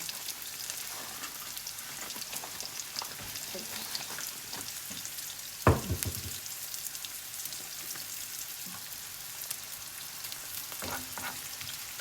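Steady sizzling and crackling of carrots frying in a hot pan, with one brief clattering stir partway through.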